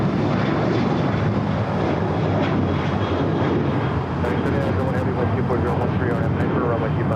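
Heavy airliner at LAX on the runway for takeoff, a loud continuous jet engine roar that fills the scene, with radio chatter and talk heard in the cabin over it.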